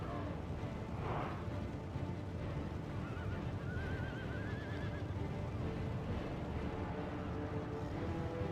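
Horses whinny amid the dense, constant roar of a Medieval II battle game, one short neigh early and a wavering whinny later, set back in a thick wash of clashing battle noise.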